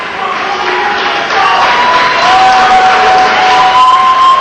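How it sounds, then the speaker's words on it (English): A large crowd at a wrestling match cheers and roars continuously, swelling louder partway through, with shouts rising above the dense noise. "Crowd cheering now"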